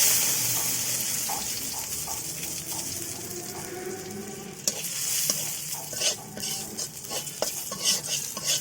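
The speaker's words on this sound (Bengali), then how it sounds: "এবার এই তেলে দিয়ে দিব কয়েকটা শুকনা মরিচ" Dried chillies sizzle and crackle in hot oil, a steady frying hiss with occasional sharp pops and stirring clatter.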